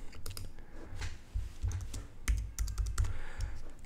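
Quick, light keystrokes clatter on a computer keyboard while text is entered in a design program, an uneven run of close clicks and taps with a low thump now and then.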